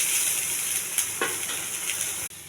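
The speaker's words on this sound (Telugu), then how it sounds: "ఇది నూనె ఏమి వేయకుండా ఒక పెనంలోనే వేయించాలి" Mint leaves dry-roasting in a pan without oil give a steady soft crackling sizzle with a few light scrapes of stirring, close and continuous.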